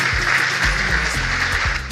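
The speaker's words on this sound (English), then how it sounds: "A round of applause for yourselves." An audience of students and guests at a school project event claps in a dense, steady wash of applause, with a few low thumps scattered through it.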